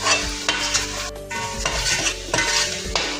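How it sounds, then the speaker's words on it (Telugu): Tomato puree is stirred into a sizzling fish curry masala for Andhra-style chepala pulusu, with a spoon scraping and clinking against the pan over constant close frying crackle. "ఇందులో టమాటా ప్యూరీ వేసుకోవాలండి. మళ్ళీ బాగా కలపాలండి."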